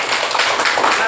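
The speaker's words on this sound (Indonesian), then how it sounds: "Tepuk tangan." A classroom of students claps together after presentations in a school lesson, a dense, loud burst of applause filling the brief moment.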